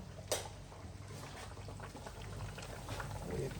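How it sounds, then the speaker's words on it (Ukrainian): Jars of pâté bubble in a pot of boiling water, a soft, continuous burble of small bursts with one sharp clink near the start, quiet and close, with no speech. "булькає"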